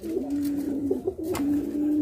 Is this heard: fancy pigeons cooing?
yes